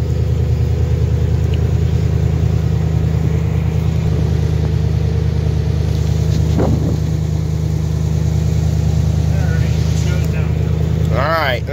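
A 1978 Chevrolet C60 truck's engine idles with a steady, loud low rumble throughout, close by, with faint background noise and a brief sharp sound near the end.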